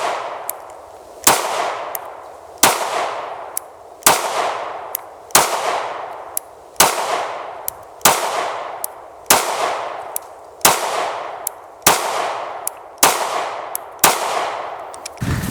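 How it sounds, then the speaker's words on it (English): Federal 115 grain Champion rounds fire one by one at an outdoor range, about eleven sharp, loud shots spaced roughly a second and a half apart, each followed by a ringing decay. "I did shoot 11 rounds for this one"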